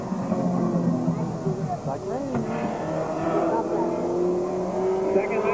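Race car number 83, driven by Ed Duncan, lapping Columbus Motor Speedway in 1988 as a steady, loud engine drone that rises and falls in pitch, heard from trackside with faint voices in the background.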